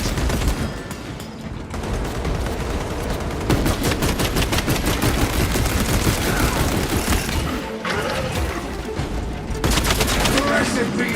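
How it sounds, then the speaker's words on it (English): Servo gun on a war harness in Warhammer 40K: Space Marine 2 firing in long, loud, rapid bursts that run nearly the whole time, with heavy impacts and a brief lull before the firing resumes. "Harness gun loaded and calibrated. Servo gun engaged."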